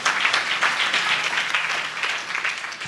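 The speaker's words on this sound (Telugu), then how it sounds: "కొడదమ్మా చప్పట్లు" Congregation at a church sermon applauding, a dense, steady wash of many hands clapping together for about three seconds, fairly close and without a break.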